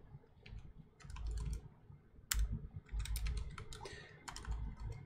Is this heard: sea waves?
no